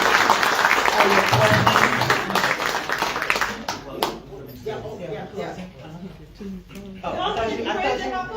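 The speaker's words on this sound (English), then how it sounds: "You guys give them one more round of applause as we prepare to close." An audience at an evening political forum breaks into a round of applause, dense clapping that fades into chatter and voices.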